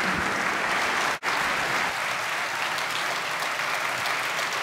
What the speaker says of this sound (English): Please join me with a warm applause as we welcome Professor Charles Soludo